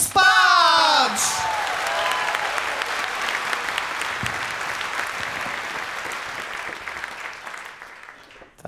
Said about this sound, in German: Der Applaus bitte